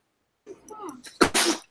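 A single loud, sharp sneeze bursts out near the end of a workbench session, following a stretch of close, quiet indoor speech.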